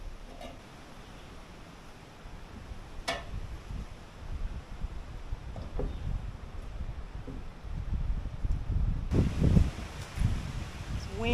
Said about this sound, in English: Wind is wild.